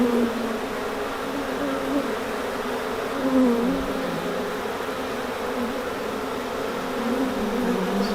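A large swarm of about forty thousand honeybees being moved into a new hive box at dusk gives a steady, dense buzzing drone, close and continuous, with slight swells in loudness throughout.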